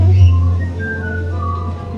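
Someone whistles a sustained tune up close at a Santa Claus village attraction, the notes sliding and holding over a low steady hum, with no talking.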